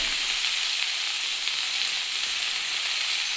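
Large chillies fry in a pan for a Bihari-style pickle, giving a dense, steady sizzling hiss at close range with no other sounds.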